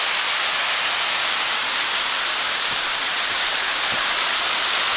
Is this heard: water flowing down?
yes